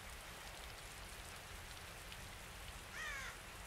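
Steady rain patters in Resident Evil 2 Remake, a soft, continuous hiss of drops on surfaces with a brief bird caw rising over it near the end.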